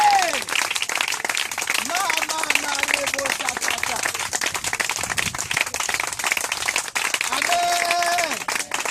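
A church congregation claps and cheers in acclamation, a dense, continuous wash of applause and shouting voices that fills the space throughout, with brief rising vocal cries near the start and end.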